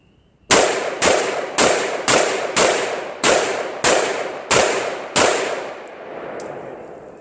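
An AR-15 rifle fires at a target about 30 yards away: eight sharp, loud shots spaced roughly evenly, each with a ringing decay, followed by fainter tails.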